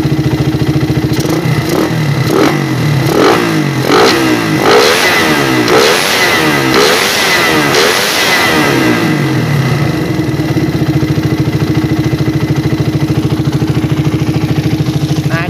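A motorcycle engine fitted with a PWK carburetor and a large main jet revs hard in quick repeated bursts, climbing and falling, then settles to a steady loud idle, close up with no talk.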